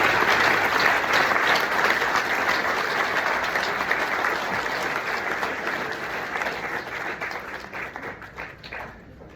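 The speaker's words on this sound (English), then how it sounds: "give these guys a round of applause." Audience applause at a high school alumni banquet, a dense steady clapping from a crowd that fills the room, loud at first and gradually thinning toward the end.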